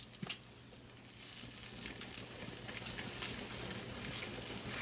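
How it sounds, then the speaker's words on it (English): Bacon sizzles crisply in a pan while being cooked crispy for shrimp and grits. A steady, fairly soft frying hiss fills the clip after a brief knock at the start, and no one speaks. "Flip the bacon, I said earlier, make it a little bit crispy."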